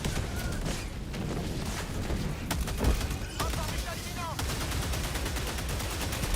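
Rapid rifle fire from the Adjudicator in the video game Helldivers crackles in dense bursts over game noise and combat effects, with a player talking throughout.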